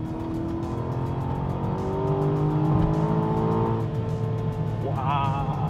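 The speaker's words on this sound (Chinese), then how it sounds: "然后这个排气声浪，天啊，哇哦哇哦，它的这个降档真的很有感觉，很暴力的感觉" A 2020 Aston Martin DBX on a test drive, its exhaust rumbling and revving as it downshifts in manual paddle mode, engine pitch rising and falling, steady and close from inside the car.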